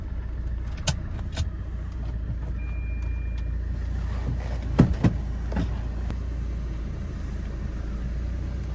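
A car engine idles with a steady low rumble, close by, with a few faint clicks and knocks breaking through the drone.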